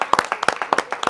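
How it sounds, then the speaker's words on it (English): Quick burst of hand clapping from a small group at a village animal-sequence prize game, a rapid uneven patter of claps lasting about a second. "Clap."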